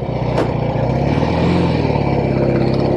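A vintage Norton Atlas 750 motorcycle engine revs up quickly and runs steadily close by, with a dense, throaty mechanical drone that holds throughout and no talking.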